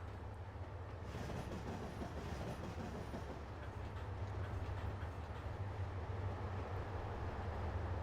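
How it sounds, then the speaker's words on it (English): A Union Pacific train passes in the Trainz Simulator 2 game: a faint, steady rumble of rolling railcars with soft clickety-clack that swells slightly after the first second and carries on evenly without speech. "And there's another Union Pacific train."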